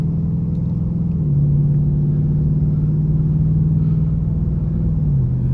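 A Ford Mustang Mach 1 accelerates from a start, its engine giving a steady, deep, loud rumble from inside the cabin with one slight shift in pitch partway through, and no talk over it.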